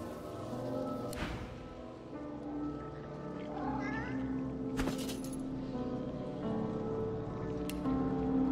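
An undead cat in the video game Divinity: Original Sin 2 makes drawn-out, aggressive yowls and hisses, with a few sharp bursts, over a steady background patter like rain.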